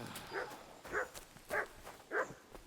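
Four evenly spaced dog barks from the video game Kingdom Come: Deliverance II at moderate volume, each a short clear yelp over a faint background hum.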